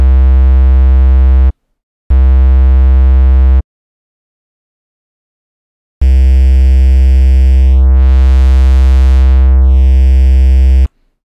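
A synth tone distorted through the FL Studio Waveshaper plugin, loud and buzzy, played as two short held notes, then a pause and a longer sustained note whose upper harmonics swell and fade midway.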